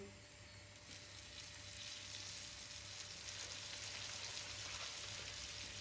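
Börek sizzling steadily in butter in a hot pan, a continuous close, even frying hiss with no voices.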